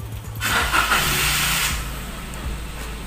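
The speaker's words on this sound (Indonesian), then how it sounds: "ketika kita mau hidupkan mobil itu seperti biasa, injek rem" A car fitted with a keyless PKE alarm is push-started with the brake pressed: a short cranking burst, then the engine catches and settles into a steady close idle hum with a faint hiss.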